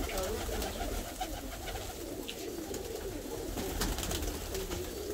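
Fancy pigeons, mostly a Russian breed, coo in a soft, continuous chorus close by in a crowded coop, layered over a steady background hum with no talking.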